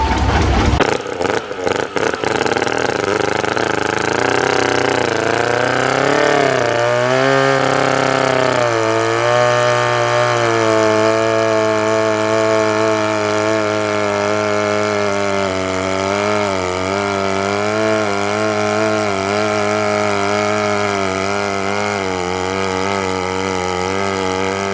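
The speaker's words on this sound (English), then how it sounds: "We got a steam engine and another couple tractors coming" A steam engine and a couple of tractors run at the Badger Steam & Gas Engine Club Show in Baraboo, Wisconsin: a loud, steady, close engine drone whose pitch wavers and shifts for about 25 seconds, with no talking.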